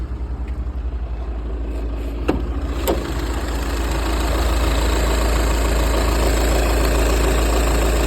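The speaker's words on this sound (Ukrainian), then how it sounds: "Моторчик працює рівно." A 2013 Volkswagen Touran 2.0 TDI 140 hp diesel engine idles steadily with a low, even rumble, nearly warmed up, growing slightly louder toward the end, with a couple of faint clicks early on.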